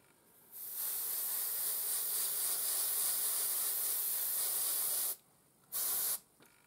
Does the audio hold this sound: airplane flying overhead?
no